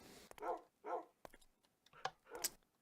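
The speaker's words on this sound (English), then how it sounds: "We've got our doggy guardians" Dogs in the Minecraft video game bark in a series of four short, clipped woofs spaced apart, fairly faint against a quiet background.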